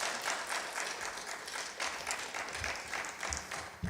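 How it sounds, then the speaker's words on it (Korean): Church congregation at a Sunday service warmly applauding to welcome the pastor, a full, even wash of clapping that swells and eases slightly, moderately distant and continuous. "우리 목사님 나오실 때 우리 뜨겁게 환영의 박수로 맞이하시겠습니다"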